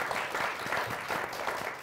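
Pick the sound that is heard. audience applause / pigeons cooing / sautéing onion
audience applause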